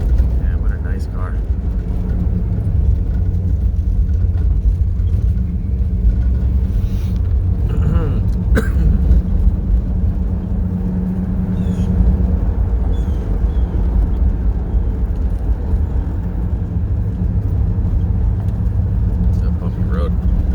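A Dodge Coronet R/T with a matching 440/375 engine and automatic transmission rolls over a bumpy road, a steady low engine and road rumble filling the cabin throughout with occasional jolts, while people talk over it.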